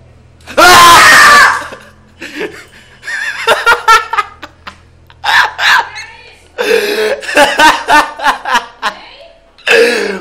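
A boy lets out a long, loud scream when the monster appears while he plays the horror game Slender, followed by bursts of panicked yelling, laughter and shouted talk.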